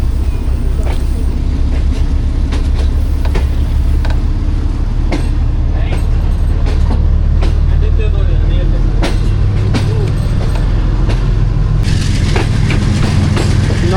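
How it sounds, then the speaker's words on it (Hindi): A train rumbles loudly and steadily at Bahawalpur railway station, with clattering and knocks mixed into station noise and voices. "Bahawalpur railway station."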